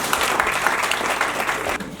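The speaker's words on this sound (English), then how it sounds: "Another big round of applause for Memma Pumaki" An audience claps at an International Women's Day opening bell ceremony, steady dense applause at moderate distance that thins out near the end.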